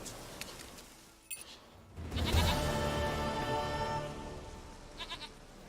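A goat in The Witcher 3 bleats in a long, loud, wavering call that begins halfway through, after a few faint clicks and quiet background sound.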